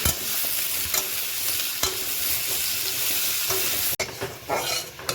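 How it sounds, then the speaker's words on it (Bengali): Vegetables stir-fried with salt and turmeric in a village kitchen pan: a steady loud sizzle with repeated scraping stirs and a brief clank near the end, no voices. "সবজিটা নুন হলুদ দিয়ে দেবো দিয়ে সবজিটা নেড়ে চেড়ে ঢাকা দিয়ে দেবো"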